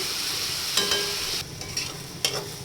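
Radish frying in a pan is stirred, with a steady sizzle and a few scraping stirs of the utensil against the pan, heard close up without any talking.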